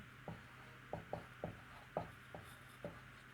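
Chalk or pen strokes on a board while a divergence proof is written out in a lecture: about eight short, quiet scratching taps in an uneven rhythm against a faint steady hum, with no talk.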